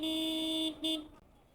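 A car horn honks twice in traffic, loud and close: one long steady blast followed by a short second toot, then only faint road noise.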